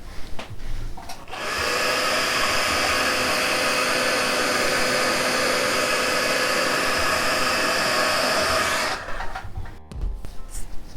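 A heat gun or hair-dryer-style blower warms thick forged carbon fiber resin, a loud steady whooshing roar running for about seven seconds between quieter handling noises.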